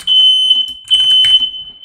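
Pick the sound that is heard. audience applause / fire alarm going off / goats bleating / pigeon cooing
fire alarm going off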